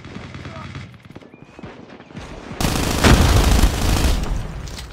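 Automatic gunfire from a deployed sentry gun in a Call of Duty match, a burst of rapid loud shots that rises sharply after quieter distant game noise, with a voice heard briefly earlier.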